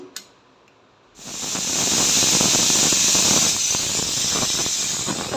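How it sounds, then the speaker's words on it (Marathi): Pressure cooker cooking dried peas with potatoes lets off a loud, steady whistling steam hiss that starts abruptly after a quiet second and holds close and strong to the end. "कुकरला झाकर लावून मिडियम फ्लेमवरच किंवा हाय फ्लेमवर तीन चार शिट्ट्या काढल्या तरी देखील चालतील"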